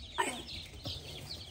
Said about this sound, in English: You got some really nice chickens.